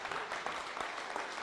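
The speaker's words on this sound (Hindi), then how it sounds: "तालियों के साथ जोर से उसका स्वागत करें यीशु मसीह के सामर्थी नाम में" Congregation at a Dubai church prayer meeting clapping loudly together, a dense, steady wash of applause filling the room without pause.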